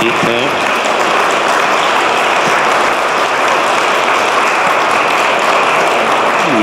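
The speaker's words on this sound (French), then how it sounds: "Est-ce qu'on pourrait peut-être l'applaudir, si vous le voulez aussi?" A congregation at a Chrism Mass in church breaks into loud, sustained applause, a dense wash of clapping that continues evenly and unbroken throughout.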